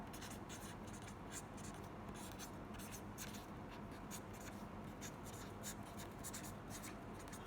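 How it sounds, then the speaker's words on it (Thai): A pen scratching across paper as a chemistry equation is written out, steady close-up strokes with short pauses between them and no voices. "ขอเขียนสมการมาอีกรอบนะครับ"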